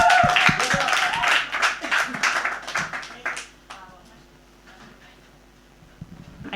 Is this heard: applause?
yes